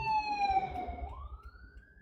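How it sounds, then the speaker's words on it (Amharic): An ambulance siren wails at a distance. A single sustained tone slides down and then rises again, fairly faint over a low background rumble. "አምቡላንስ እየጮኸ መንገድ ይዘጋበታል።"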